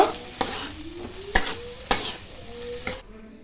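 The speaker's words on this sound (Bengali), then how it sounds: "এবার এর মধ্যে আমি আলুগুলো দিয়ে দিব। ভালোভাবে মিশিয়ে নিব।" Potatoes being stirred into spiced masala in a pan for a fish curry, with a steady sizzle of frying under three or four sharp scraping stirs of a spoon against the pan, close and fairly loud, no speech.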